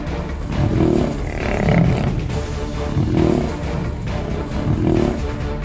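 Lions roar and fight in the wild. Deep, repeated roars and growls come in rhythmic bursts, loud and close, over rough snarling noise.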